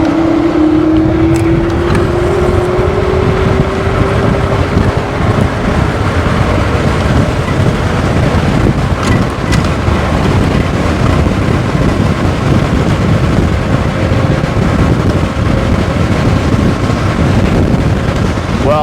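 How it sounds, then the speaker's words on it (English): Roadrunner Pro electric scooter at top speed, a rising motor whine at the start giving way to constant heavy wind buffeting against the microphone throughout. "let's see how fast we can get this scooter to go"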